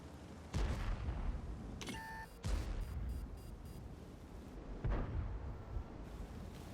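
IS-7 heavy tank cannon in the World of Tanks video game, three deep booming shots spaced a couple of seconds apart, each a loud sharp blast with a rumbling tail over steady battle ambience.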